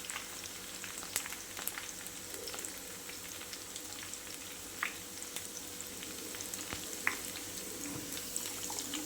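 Bitter gourd fries in oil in a pan with a steady, close crackling sizzle and occasional sharper pops and clicks.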